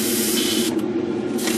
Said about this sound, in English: kind of spray it out.